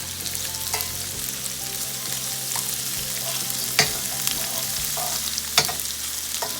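Shrimp frying in a pan, a steady close sizzle with a couple of sharp pops and light scraping, no voices.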